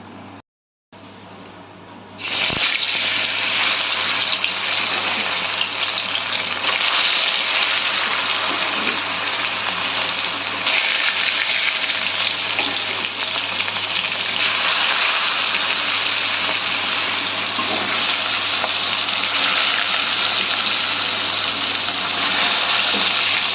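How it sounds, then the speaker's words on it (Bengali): Salt-and-turmeric coated fish frying in hot oil for a Bengali fish curry, a loud steady roaring sizzle that jumps in abruptly after a brief quieter start and continues unbroken and close. "এবার নুন হলুদ মাখানো মাছগুলো আমরা একে একে তেলেতে ভেজে নেব।"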